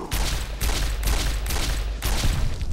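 Gunfire in modded Fallout New Vegas comes as loud, close bursts of rapid shots, about five volleys at a steady rhythm roughly half a second apart, with no talking.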